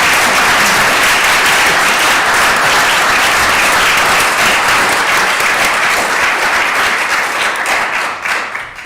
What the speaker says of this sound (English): if we could all give our speakers another round of applause this evening